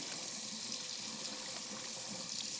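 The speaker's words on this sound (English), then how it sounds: "I'm just gonna run this under hot water" Hot water runs steadily from a kitchen tap into a sink while raw bone-in chicken thighs are prepared for a grill, a continuous close hiss with no talking.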